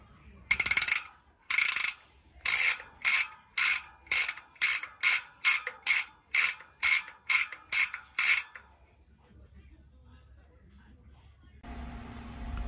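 A Maxzone Stroke 1.0 bicycle freehub, still on its original springs, ratchets in a rapid series of about fourteen sharp clicking bursts that come close and loud, then stop, leaving quiet background hum.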